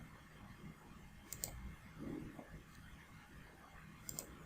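A couple of soft, isolated computer mouse clicks, spaced a few seconds apart, during software data entry in an otherwise quiet room.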